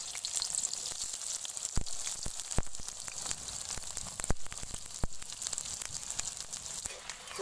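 Onions frying in hot oil in a kadhai for chicken dum biryani, a steady bright sizzle with crackling pops and occasional stirring clicks, close and continuous.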